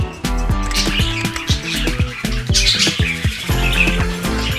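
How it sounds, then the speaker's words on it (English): A contented budgie keeps up soft, continuous chirping and murmuring chatter, a close, busy stream of short chirps and squawks with no voices. "your budgie making soft, continuous chirping or murmuring sounds"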